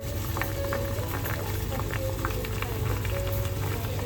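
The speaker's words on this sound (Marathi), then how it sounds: "आता हे सर्व ना केळ्याचे काप ह्याच्यामध्ये आपण उकळायला ठेवतो" Banana slices boil in turmeric water, a steady, close bubbling that runs without a break for the whole stretch.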